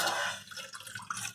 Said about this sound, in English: Let me pour this onto the vessel.